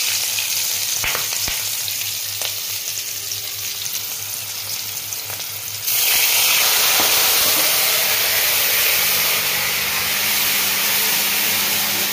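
Water poured into a hot pan with cumin for mustard hilsa sets off a sudden loud hiss and sizzle midway, following quieter frying, and the hiss stays steady and close until the end.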